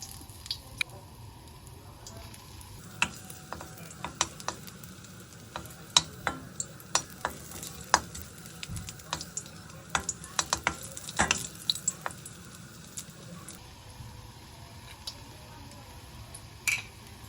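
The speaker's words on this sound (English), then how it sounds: "Heat a large wok over medium-high heat and add the olive, ginger slices, and star anise." Ginger slices and star anise fry in olive oil in a large wok over medium-high heat, a quiet steady sizzle broken by scattered sharp clicks and taps from stirring, no talking.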